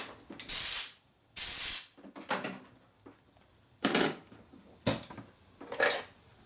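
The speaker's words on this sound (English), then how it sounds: "Now this is a regular air nozzle." Short bursts of compressed air blast from a regular air nozzle in a machine shop while chips are cleared from a tapped exhaust port hole on a 1977 shovelhead cylinder head, two long loud hisses followed by several shorter puffs.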